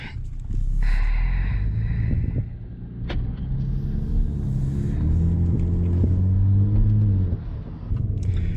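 A Jaguar F-Type's engine and exhaust pull away from a stop, a loud, close, deep rumble that rises and falls in pitch as it accelerates through the gears, with no talk over it.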